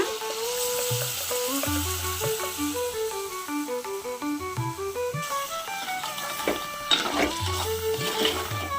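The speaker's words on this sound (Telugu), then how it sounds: "ఉల్లిపాయ టమోటాని ఆ గ్రేవీ అయితే దీంట్లో వేసేసుకుంటున్నా" An onion and tomato gravy sizzles in oil for a crab curry, a steady hiss running under louder melodic background music.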